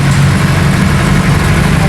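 A jeepney engine idles with a steady low rumble and a constant hum, loud and continuous with no pauses, and no talking over it.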